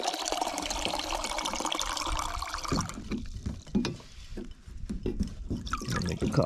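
Water pours and splashes into a jug being filled for boiling, a continuous rushing flow for a few seconds, then fainter gurgles, drips and handling clunks.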